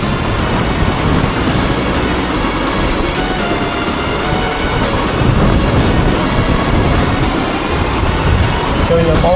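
Strong gusting wind roars near Jatashankar in Junagadh during rainy weather, a loud, continuous buffeting rumble close to the microphone, with a voice faintly present underneath.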